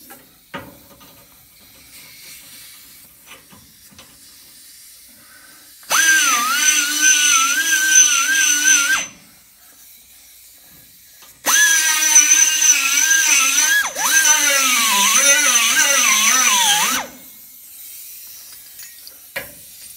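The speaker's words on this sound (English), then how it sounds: "Get a little rotary rasp action going." Rotary rasp spun in a drill, enlarging drilled holes in a race car door bar tube: two loud bursts of high, whining grinding, each several seconds long, with a wavering pitch, separated by quiet pauses and faint handling clicks.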